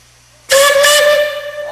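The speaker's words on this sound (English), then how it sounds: "he will signal that he understands that to go forward, which is 2 blasts" A steam whistle on a Lombard log hauler sounds loud and close as the engineer signals, a sudden strong blast cutting in after a quiet start and holding steady with a hissing edge.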